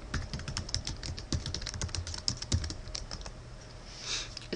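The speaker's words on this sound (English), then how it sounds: "you go to the address bar and you're going to type in www.badgerlink.net and hit return" Rapid clicking of keys on a computer keyboard as a web address is typed into a browser, steady and close, then trailing off into a brief softer sound.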